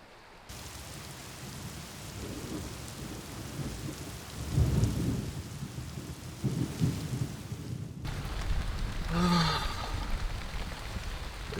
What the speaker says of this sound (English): It's constantly raining